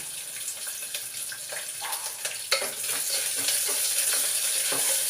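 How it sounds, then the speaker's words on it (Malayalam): Onions fry in a pan for vangi bath, giving a steady close sizzle with scattered stirring clicks and scrapes. "കുറച്ച് ഫ്രൈ ആയിട്ട് നമുക്ക് ഉള്ളി ഇടാം"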